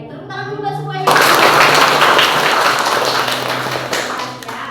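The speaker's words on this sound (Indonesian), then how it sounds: "Tepuk tangan dulu buat semuanya" Classroom of children clapping for everyone during a microteaching lesson, a burst of applause starting after a teacher's brief spoken line and continuing loudly, fading toward the end.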